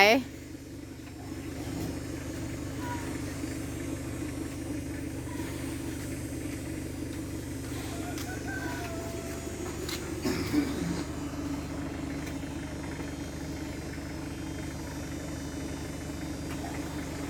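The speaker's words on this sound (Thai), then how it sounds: "นี่นะคะรถขยะนะคะ จะเอาขยะไปทิ้งเนาะค่ะเนาะ" A garbage truck's engine idles as a steady, low mid-pitched rumble throughout, with a brief clatter around the middle and someone talking over it.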